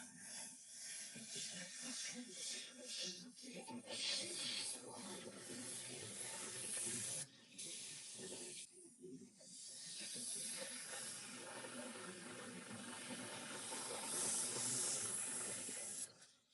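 A Nedeco airbrush sprays with steady, continuous hissing throughout, loud and close, briefly cutting out once before resuming.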